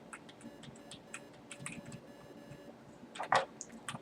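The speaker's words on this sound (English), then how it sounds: "So yeah, a little Morse code machine." A small Morse code machine built in the video game Garry's Mod ticks out faint, irregular clicks and short beeps, quiet and sparse with a soft background hum.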